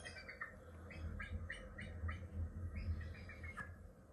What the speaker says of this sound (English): Oh, bald eagle.